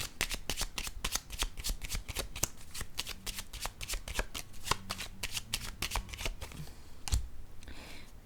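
Oracle cards riffle and slap in rapid, rhythmic bursts, shuffled repeatedly at close range before a single card is laid down with a soft thud near the end; no talking.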